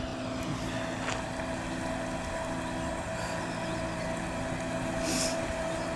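A boat, its deck stacked with forks, motors along on open water, giving a steady, continuous engine drone with a low hum and broadband wash, fairly near and unbroken, with no talk.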